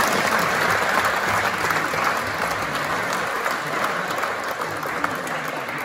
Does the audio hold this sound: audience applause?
yes